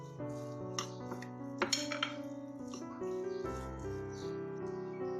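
A spoon clinks and scrapes irregularly against a bowl as chicken mince is stirred with half an egg and two spoons of flour, quiet and close, with a few sharper taps.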